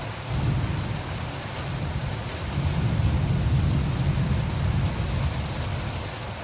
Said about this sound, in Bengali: বিকালের দিকে আবার শুরু হয়ে গেল ঝড় বৃষ্টি।